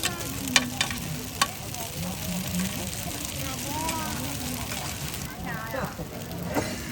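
Fresh corn cakes fry in a large pan at a busy rural market in Qingdao, Shandong, with a continuous sizzle and scraping stir, sharp utensil taps early on and voices chattering nearby.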